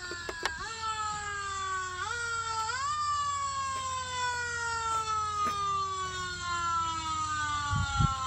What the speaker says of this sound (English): Wait till the siren stops.